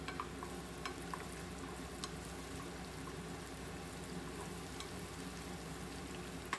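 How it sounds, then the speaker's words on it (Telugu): Onions and green chillies frying in oil in a pan, a faint, steady background sizzle with occasional light ticks and spatula clicks, heard close but quiet and with no voices. "ముందుగా మిగిలిన సగం ఆనియన్స్ని ఈ విధంగా వేసేసి అలాగే పచ్చిమిర్చి కూడా వేసి ఫ్రై చేసుకుందాము"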